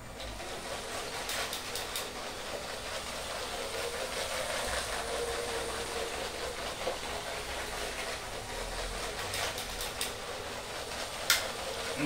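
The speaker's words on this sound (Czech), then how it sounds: "A nyní vlak, aniž by kdekoliv zastavil, projede celou trať." LEGO train controlled by an Arduino UNO running continuously around its track without stopping, giving a steady mechanical rolling hum with faint clicks, moderately close and without talk.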